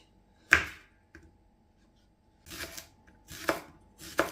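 A knife chops shallot and garlic on a cutting board in a handful of separate crisp strikes, the first one loud and sharp, the later ones coming in short clustered bursts after a quiet gap.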